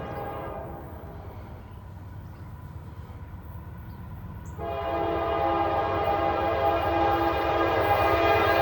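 A southbound freight train's horn blares steadily over a low rolling rumble at Walton, jumping louder about halfway through as the train draws close.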